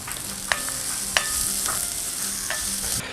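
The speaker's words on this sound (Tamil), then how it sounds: "இப்படி வெங்காயம் வதங்கிட்டு இருக்கும்போதே" Onions sautéing with ginger and garlic in a pan for a mushroom masala, a steady close sizzle broken by a few sharp scrapes of stirring, with no talking.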